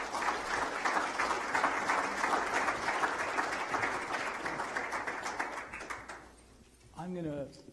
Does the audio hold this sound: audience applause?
yes